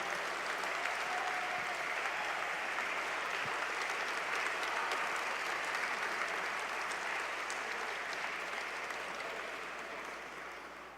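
Gala audience applauding honorees at an American Liver Foundation event, a broad, even wash of many hands clapping in a large room, steady and moderately distant, tapering slightly toward the end.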